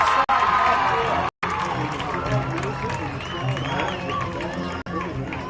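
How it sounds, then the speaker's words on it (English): Baseball crowd at a game giving out scattered calls and shouts over a dense, continuous murmur of spectators, with a few brief dropouts. "As you can hear calls from the crowd."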